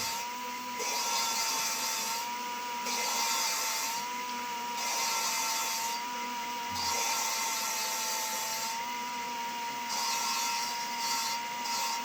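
Engine valve lapped by hand with valve grinding compound on a 5.2 or 5.9 engine, a faint close repeating whir that swells and drops roughly every two seconds, with no talk.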